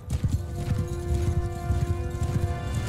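Horses galloping in Mount & Blade II: Bannerlord during a cavalry charge, a dense continuous drumming of many hooves, loud and close over a steady hum, with no talking.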